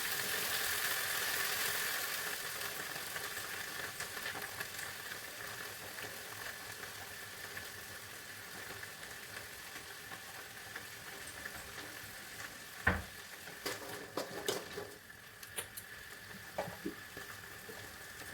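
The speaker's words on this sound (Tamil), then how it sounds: "சேர்த்து வச்சு ஒரு 2 நிமிஷம் நல்லா வதக்கிக்கோங்க" Chickpeas sautéing in a pan for a Tamil chickpea gravy (kondakadalai kuzhambu), giving a steady broad sizzle throughout with a few sharper stirring clatters near the end.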